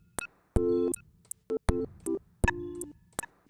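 A song built entirely from iPhone alarm sounds, with short beeping tonal bursts set against clicky percussive hits on bass drum and hi-hats in a choppy, rhythmic pattern.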